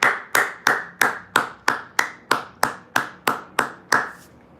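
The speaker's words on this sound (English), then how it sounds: "a round of applause" About a dozen sharp hand claps in a slow, evenly spaced rhythm, each crisp and close with a short decay, heard alone with no talking.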